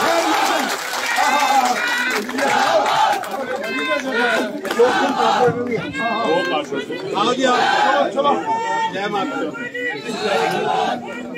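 A crowd at a BJP political rally in Jammu roars with chanting, shouting and scattered applause, loud and dense, with voices overlapping throughout.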